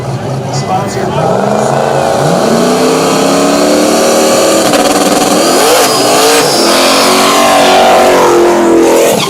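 Chevy S10 drag racing truck accelerating hard down a dragway strip: a loud, sustained engine roar rising in pitch through gear changes, with crowd and track ambience under it.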